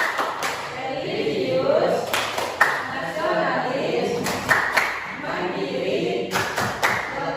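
A classroom of students doing the Tepuk PPK clap chant, sharp rhythmic group claps landing between loud chanted words, close and lively.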